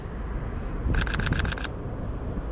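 A fast burst of Sony A7 III camera shutter clicks in high burst mode, around a dozen in under a second, rattling crisply over a steady background hiss.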